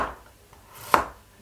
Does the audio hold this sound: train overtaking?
no